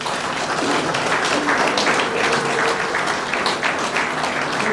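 Sustained audience applause fills a signing ceremony, dense steady clapping from a crowd with no break, loud and even throughout.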